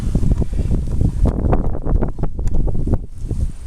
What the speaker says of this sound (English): This wind will not quit here